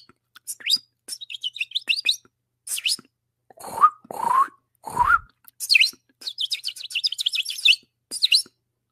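A man imitates bird chirping with his voice, giving a rapid string of high tweets, whistled trills and rising squeaks in short bursts, fairly close and loud.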